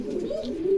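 Mini fancy pigeons at a pigeon farm give a brief, soft, low cooing murmur, close by and steady for under a second.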